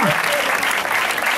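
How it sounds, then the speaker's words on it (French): Brief burst of loud, dense clapping from a crowd at a student performance, sustained without a break. "Applaudissez encore, plus fort."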